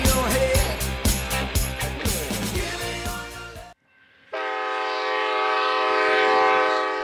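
Steam locomotive 3751 hauling an excursion train near Williams, Arizona, heard with rhythmic chuffing and clanking that cuts off briefly, followed by a long, loud, sustained steam whistle blast close by.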